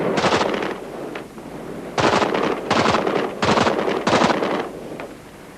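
Machine gun fire rips out in several long automatic bursts aimed at a Saddam Hussein mural in Kuwait, loud and close, with brief gaps between volleys and wind buffeting the microphone.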